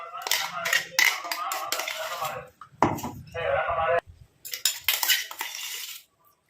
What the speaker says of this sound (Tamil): இப்போ இந்த இரும்பு கடாயில் நம்ம இந்த மருதாணி பேஸ்ட்டை வந்து போட போகிறோம்.